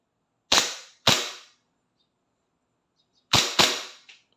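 WE Tech Glock 17 Force Series airsoft pistol firing on semi-automatic: four sharp close cracks, two in quick succession, a pause of about two seconds, then two more in a fast pair.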